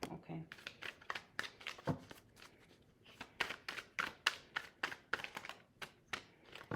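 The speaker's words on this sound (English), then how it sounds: "Ew, I don't like that shuffle" Tarot cards being shuffled during a reading, with a run of rapid, crisp riffling flicks and taps close by, briefly pausing before resuming.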